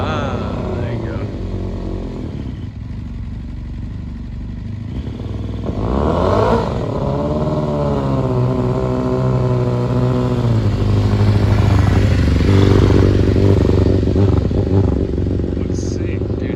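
A motorcycle engine idles and then revs on its first ride after carburetor work, building in pitch and loudness from mid-clip onward, with people talking over it throughout.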